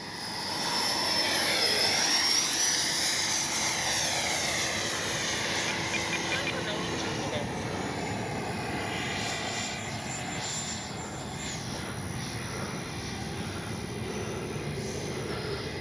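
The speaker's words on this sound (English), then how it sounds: "come by, fly by dirty" A jet engine whines and roars as an FMS 80mm F-86 radio-controlled jet makes a low pass with flaps down on its first flight, rising then fading into a steady hiss while people talk faintly.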